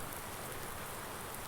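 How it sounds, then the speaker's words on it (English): Steady patter of rain in the Farming Simulator 19 video game after snow turns to rain on a farm, a constant even hiss with no talking. "the snow has turned to rain"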